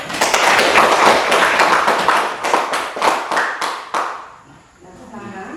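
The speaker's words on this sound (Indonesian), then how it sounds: "Tepuk tangan dulu." A school class claps hands together in a classroom, a burst of quick, loud, closely spaced claps that slows into a few separate sharp claps before fading, with a voice briefly audible at the end.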